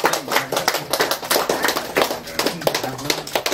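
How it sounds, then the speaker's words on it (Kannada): A group claps at a birthday celebration in an old-age home, a quick uneven run of hand claps close by for a few seconds, with voices talking over it. "ಜೋರಾಗಿ ಚಪ್ಪಾಳೆ"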